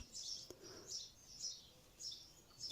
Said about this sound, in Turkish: umarım kuş sesleri de size geliyordur